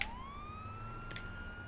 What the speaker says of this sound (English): I hear the sirens fucking stop, man